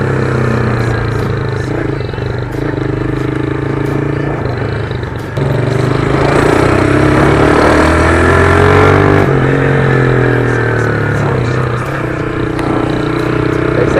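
A Honda Start 150 motorcycle engine revs steadily while being ridden, a loud, close, continuous mid-pitched drone with a slight surge partway through and no talking over it.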